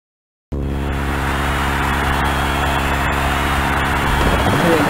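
Race car engines revving steadily at the starting line in the PlayStation racing game Rage Racer, a loud sustained multi-engine drone that starts abruptly after a moment of silence.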